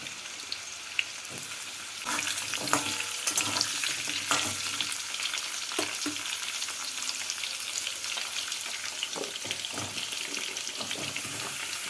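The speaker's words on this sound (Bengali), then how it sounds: "এবার সবজিগুলোকে হালকা করে ভেজে নেব" Mixed vegetables with green chilies and five-spice seeds frying in a kadai, giving a steady bright sizzle with occasional stirring scrapes and clicks, with no talking.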